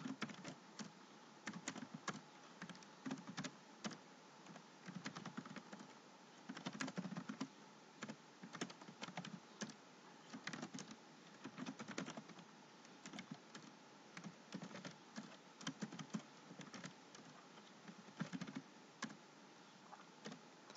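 Fingers type steadily on a computer keyboard, producing close, continuous clusters of keystroke clatter with brief pauses between bursts.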